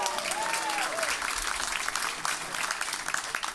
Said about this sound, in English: Can we give Ray a round of applause